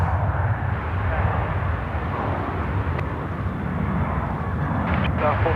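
Air New Zealand jet airliner at Sydney Airport, a steady broadband engine roar holding loud and even throughout, with someone talking over it.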